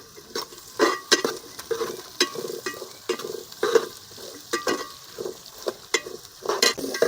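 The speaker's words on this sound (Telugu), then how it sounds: "ఎర్రగడ్డలు వేసుకొని కొంచెం వేయించుకోవాలి" Onions and mustard seeds frying in oil in a village kitchen while crab curry is prepared, giving a steady sizzle broken by repeated stirring scrapes and clinks at close range.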